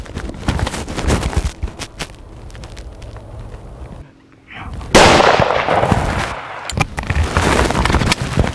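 A loud rifle shot booms outdoors at a buck during a deer hunt, a sharp blast with a rolling echo, set amid wind noise and rustling.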